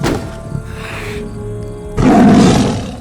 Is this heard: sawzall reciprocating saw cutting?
no